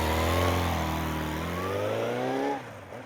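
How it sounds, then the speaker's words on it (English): A video-game motorcycle revs at full throttle, its loud engine note climbing steadily in pitch for over two seconds before cutting off abruptly into a quieter tail. "I climb on my bike and drive full throttle down the expressway."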